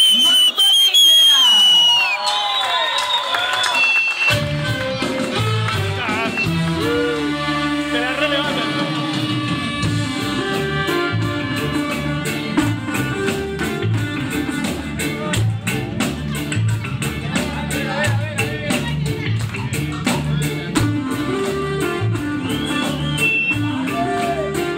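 A loud crowd at a reggae concert shouts, whistles and cheers over a steady, heavy band groove, with continuous roaring noise and piercing whistles throughout.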